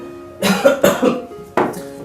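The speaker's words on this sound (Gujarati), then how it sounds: "થોડીક ઉધરસ આવે છે અને થોડોક શ્વાસ ચડે છે" Three harsh, close coughs from an elderly person: two quick ones together, then a short pause and one more.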